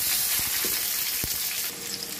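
Onions frying in oil with bay leaf in a pot, a steady close hiss with a couple of soft knocks, slightly quieter toward the end.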